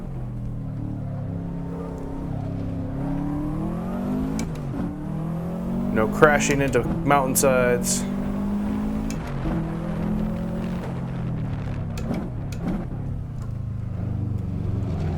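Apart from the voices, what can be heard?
Subaru WRX racing up Pikes Peak in video game Assetto Corsa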